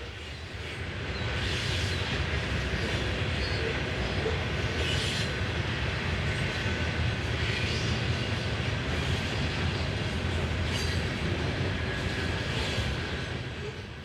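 A long freight train rolls past at an Ohio rail spot, a loud, steady rumble of wheels and cars lasting the whole stretch, with faint periodic clatter from the rails.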